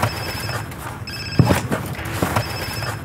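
A telephone rings in a Resident Evil animated film, a steady electronic ring running beneath scattered thuds and clattering effects, with no voices.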